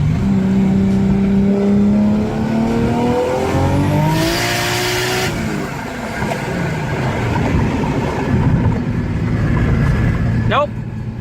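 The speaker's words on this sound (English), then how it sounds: "Alright, so we're clearly driving now." Car with an R154 manual gearbox driving, the engine loud and close as its pitch rises and falls through gear changes over a road rumble, with a voice speaking near the end.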